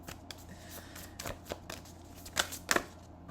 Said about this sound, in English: Let me just finish shuffling cards